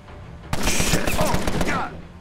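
Tommy gun firing in the video game Empire of Sin, a single loud sustained automatic burst of rapid shots lasting over a second, close and punchy, with a faint voice underneath.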